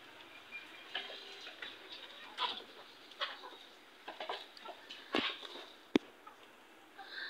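Domestic chickens feeding near a rural house on a rainy, overcast morning: soft, scattered pecking ticks and occasional faint clucks, fairly quiet and close, with one sharp click near the end.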